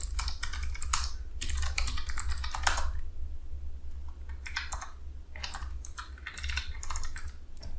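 Keys on a computer keyboard are typed in quick bursts as a terminal command is entered. The close, crisp clatter comes in uneven clusters separated by short pauses, with no talking.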